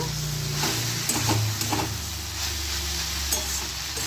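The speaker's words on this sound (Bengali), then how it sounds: "বাদামগুলো দিয়ে দিলাম, দিয়ে ভালো করে নেড়ে নেব।" Peanuts, jaggery and dried red chilies are stirred in a frying pan for a Bengali kolmi shak side dish, giving a close, steady sizzle with scraping stirs and a few brief knocks against the pan.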